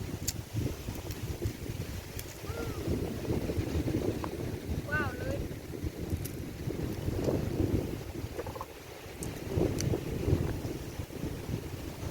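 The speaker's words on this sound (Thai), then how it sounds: "โอ้ยลมเลยกระเด็นกลางคืนยังลมแรงกว่านี้อีก" Strong outdoor wind buffets the microphone in a continuous low rumble with gusts swelling and easing, while people talk over it.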